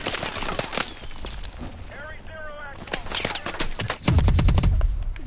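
Automatic gunfire and bursts of shots in the Call of Duty: Advanced Warfare campaign, loud rapid rattling volleys that build to a heavy, booming burst near the end, with a voice speaking briefly in the middle.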